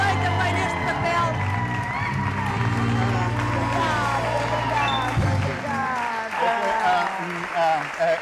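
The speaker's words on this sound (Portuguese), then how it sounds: "uma grande salva de palmas para ele" Theatre audience in Lisbon applauds an actor, a steady clapping wash under loud voices and tonal music-like sound that drops out partway, continuing to the end.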